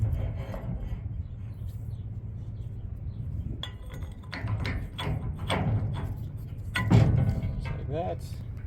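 Metal clevis being fitted onto the hitch bar of a J&M 750 grain cart, giving light clinks, taps and rubbing scrapes over a steady low hum, louder toward the end.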